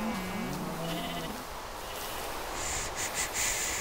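Sheep bleating in the Minecraft video game, a few wavering low bleats early on, followed by brighter, higher game noises over steady background hiss, with no talking.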